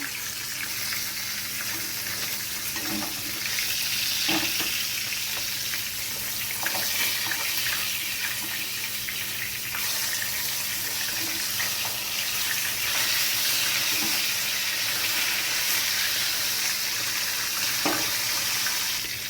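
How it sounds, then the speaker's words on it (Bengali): Pomfret fish frying in hot oil in a pan, a loud, continuous broad hiss with occasional small pops and clicks, sustained throughout without any talking. "এবার মাছগুলো একটু ভেজে দেবো"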